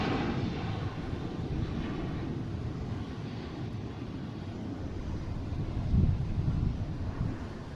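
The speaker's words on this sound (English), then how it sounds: "that's a cool looking plane that comes around" A jet airplane rumbles at Boston Logan International Airport as a steady, moderately distant engine drone mixed with wind buffeting on the microphone, swelling briefly toward the end.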